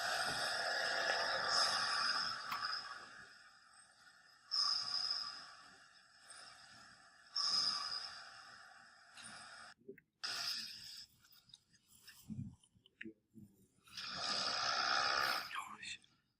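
A man snores through sleep in long, steady cycles, each raspy inhale swelling loud and then fading, with a few brief shuffles and clicks between breaths.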